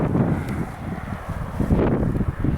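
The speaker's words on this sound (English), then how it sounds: "It's very windy and it's cold." Strong, cold gusty wind buffets the microphone outdoors near Penticton, British Columbia, a steady low rumble with surges and rustling, loud and close throughout.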